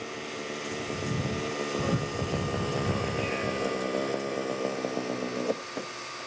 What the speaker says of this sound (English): this is a forced landing for Richthofen.